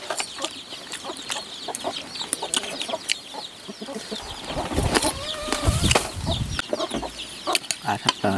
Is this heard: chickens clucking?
yes